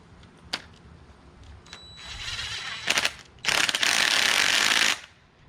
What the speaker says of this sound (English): I'm going to use the impact and tighten it up